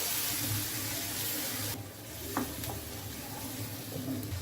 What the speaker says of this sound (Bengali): প্রথমে মশলাটা ভালো করে কষাতে হবে।